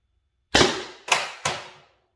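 Three sharp gunshots fired through a Grimburg 5-inch barrel, the first two about half a second apart and the third close behind, each loud and near with a decaying ring and no talking.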